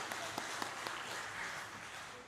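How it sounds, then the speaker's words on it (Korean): A church congregation at a Wednesday worship service claps together, a brief, even wash of applause with a few sharper claps standing out, fading slightly at the end. "영광의 박수 드리도록 하겠습니다."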